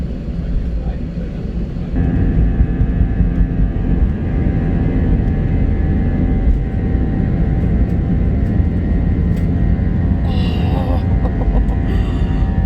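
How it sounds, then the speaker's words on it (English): A plane taking off gives a loud, steady engine roar and hum that swells after a couple of seconds and holds, heard from nearby with people talking. "I was getting the shadow of the plane taking off."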